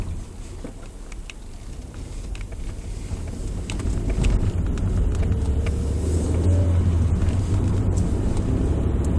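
Steady road and engine rumble inside a Mazda 626 2.0 cruising on the road, building slightly louder partway through, with wind noise and no talking.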